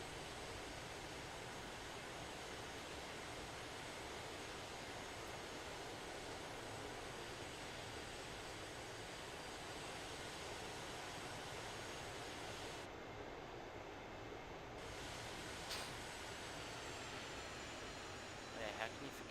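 An A-10A's twin jet engines spooling up in DCS World: a steady, broad turbine roar and whine holding constant for the whole stretch, with a brief change partway through as the second engine catches.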